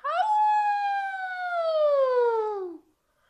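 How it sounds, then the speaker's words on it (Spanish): A single long howl, loud and close, gliding slowly downward in pitch before cutting off into silence. "Los lobos de verdad le aullamos a la luna."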